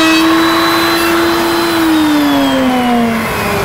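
Close, loud whine of a Kreg beaded face frame machine cutting a 1/4-inch notch in wood, a steady motor drone that slowly drops in pitch as the cut finishes, with no speech over it.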